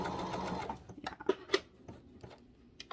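A sewing machine runs while stitching a sock toy, with a brief steady mechanical whir, then a few irregular clicks and knocks as it stops and starts, close and fairly quiet.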